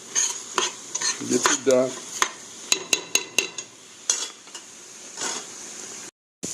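Onions cook in a pot for an asparagus lemon parmesan soup while a utensil stirs and scrapes them. Sharp clacks and scrapes repeat in an uneven rhythm over a soft sizzle, and a voice speaks briefly.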